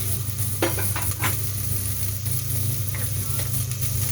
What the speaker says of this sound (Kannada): ಈರುಳ್ಳಿ ಸ್ವಲ್ಪ ಗೋಲ್ಡನ್ ಕಲರ್ ಬಂದ ಮೇಲೆ ಶುಂಠಿ ಬೆಳ್ಳುಳ್ಳಿನ ಆ್ಯಡ್ ಮಾಡ್ಕೋಬೇಕು